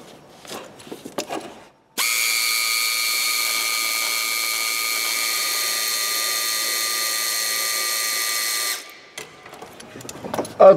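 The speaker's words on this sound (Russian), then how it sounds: "Откручиваем крепление тросов." Power tool, such as an electric drill or driver, unscrewing the gearbox cable mounts on a Skoda Fabia during a clutch replacement: one steady, loud, continuous whir lasting about seven seconds, with quiet workshop handling before and after.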